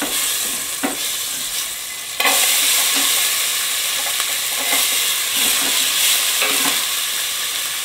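Chopped onion sautés in a pot of butter and a little oil with a loud, continuous sizzle. Stirring scrapes recur at a steady pace and the frying swells after a couple of seconds, with no voices.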